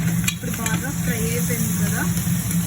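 Tomatoes fry for a mutton curry with a steady sizzle and some stirring in the pan, loud and continuous, while a voice talks over it briefly.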